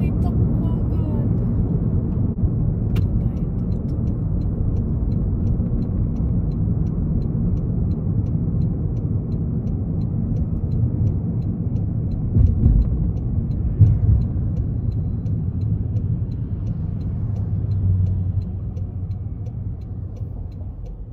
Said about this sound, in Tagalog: Ang dami sasakyan.